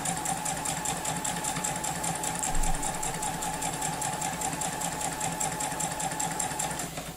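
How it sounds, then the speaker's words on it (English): A sewing machine stitches a quarter-inch seam down quilting fabric wedges for a Dresden Plate block, its needle hammering in a fast, steady mechanical rhythm, close and continuous without talk. "I'm gonna just sew a 1/4 inch seam down."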